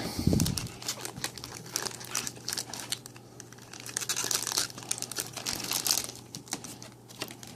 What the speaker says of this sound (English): Let's get the plastic off of her. A lot of plastic on her.